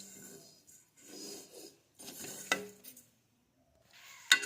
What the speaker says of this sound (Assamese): এয়া এতিয়া অলপ জিৰা ভাজি থৈছোঁ।